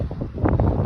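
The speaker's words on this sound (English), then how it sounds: "It's windy here today." Low, rumbling wind buffeting the microphone in gusts, loud and close, with no other clear sounds.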